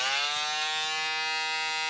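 A Gamma boosted electric shaver runs steadily, giving off a loud, even buzzing hum with a bright whine that holds constant close to the microphone throughout.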